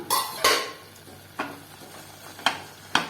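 Spoon scraping and clattering in a pan of onion capsicum masala gravy, several distinct knocks spaced about a second apart over a low steady background, close and fairly loud, no talking.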